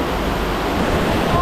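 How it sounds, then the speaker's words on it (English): A big waterfall in a forest roars as a steady, dense rush of falling water, loud and close, with gusty wind blowing off the falls. "Dude, yeah, that's a big waterfall,"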